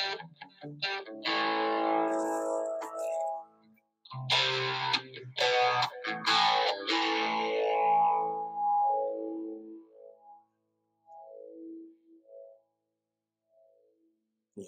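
An electric guitar plays through a pedalboard with a compressor pedal, bright distorted chords and notes ringing out with long sustain, then fading into sparse, quieter single notes with gaps of silence.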